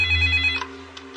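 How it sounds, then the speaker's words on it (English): A telephone rings in a police lieutenant's command office, a steady electronic bell tone sounding loud and close for about a second, with no talk over it. "is in his command office when the phone rings."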